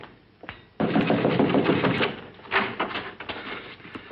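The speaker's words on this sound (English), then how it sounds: "Open the door." A door being opened with a sudden thud and latch clatter followed by rattling, creaking movement and a few sharp knocks, close and fairly loud, with no talking.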